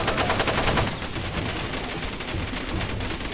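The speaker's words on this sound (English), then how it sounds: "If I throw a grenade here, are those bullets gonna explode? Yeah, and they're gonna shoot." Ammunition cooking off after a grenade in the video game Far Cry 2, a dense rattle of rapid popping shots, loud and continuous throughout.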